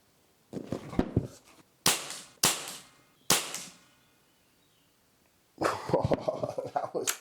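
Several sharp air rifle shots from a Weihrauch HW77 or Air Arms TX200, each a loud crack with a short decaying tail, spaced irregularly in a quiet setting, followed by a cluster of clattering noise.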